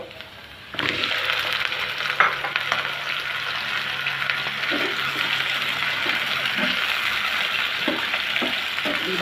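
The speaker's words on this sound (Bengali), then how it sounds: "এর পর্যায়ে দিয়ে দেবো ধুয়ে রাখা মিষ্টি কুমড়াগুলো।" Pumpkin pieces fried with soft, lightly fried onions in a pan, for a Bengali sweet pumpkin bhaji: a steady close sizzle starts abruptly and carries on throughout, with occasional stirring scrapes and clacks.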